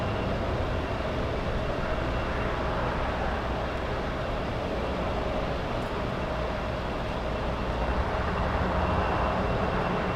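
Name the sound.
Lufthansa airliner at LAX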